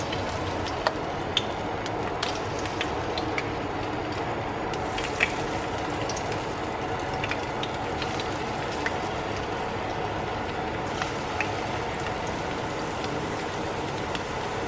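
Potato pancake batter spoonfuls for draniki fry in a shallow layer of hot oil in a pan, giving a steady, even sizzle with scattered small pops throughout.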